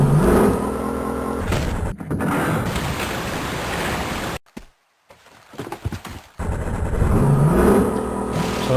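A vehicle driven in the remastered Tomb Raider II has a loud, steady engine roar that drops out briefly midway, then returns at full strength.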